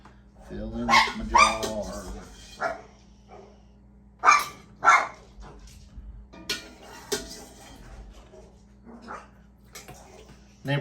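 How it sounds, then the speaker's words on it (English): Several dogs bark in short loud bursts near a home kitchen where peppers are being canned, scattered across the stretch with quieter gaps, mixed with a person talking and occasional clinks of dishes and pans. "Neighbor dogs are talking, so my dogs have to talk too."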